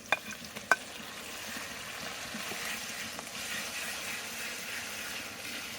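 Onions that have already been fried a while sizzle steadily in a pan with ginger-garlic paste just added, making a soft, continuous frying hiss, with a couple of sharp utensil clicks at the start and no talking.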